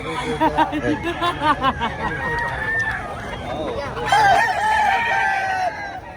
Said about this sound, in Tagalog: Grabe, ang dami manok dito.